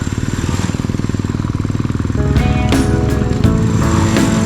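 A motorbike engine drones steadily close by while riding, its rhythmic chug growing rougher and louder partway through, with wind and road noise mixed in.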